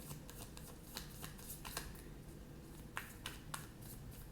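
Tarot cards shuffle and slide in a close, soft series of riffles and flicks, with crisp papery snaps spaced irregularly over a quiet room tone and no speech.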